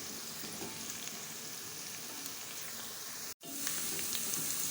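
Onions frying in oil for a chicken karahi give a steady, faint hiss, like soft rain, held nearly the whole time and broken by one brief dropout near the end.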